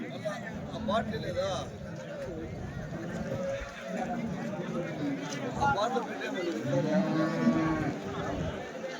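Calves low and moo repeatedly amid a busy, noisy crowd at a weekly cattle market in Chintamani, India, with people talking throughout and animal calls rising above the din.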